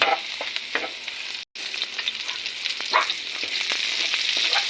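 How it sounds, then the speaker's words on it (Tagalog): Aromatics being sautéed for lugaw, garlic and ginger hissing in hot oil in a pan, with a steady close sizzle and scraping stirs, a brief dropout midway, no voices. "magigisa na po tayo ngayon para sa lugaw"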